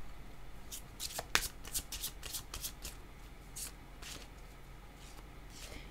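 Tarot cards being shuffled by hand, a quick run of crisp riffling flutters and taps close up, busiest early and thinning toward the end, with no voices.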